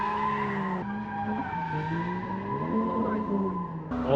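A car drifting at a circuit near Mount Fuji, its tires squealing in long, loud, pitch-shifting skids that run almost continuously, with the engine note underneath and heard from trackside at moderate distance.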